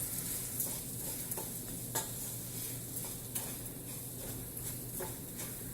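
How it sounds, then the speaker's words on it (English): Mexican rice stirred in a pan, a quiet low sizzle under soft scraping and clinks of a spoon against the pan, with no speech. "Okay, so give that a stir."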